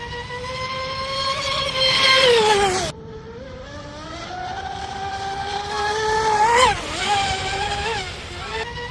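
A radio-controlled speedboat's motor whines loudly, its pitch climbing and falling as the throttle is blipped in repeated bursts, with a sharp cut around the middle before revving up again close by.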